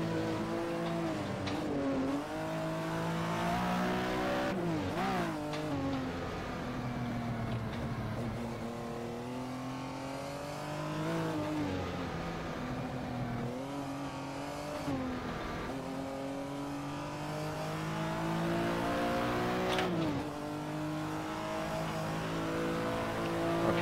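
A Lancia Stratos rally car's engine in a racing video game on the Targa Florio course, revving up and down through gear changes across a sustained lap, with rising and falling pitch and occasional tire squeal.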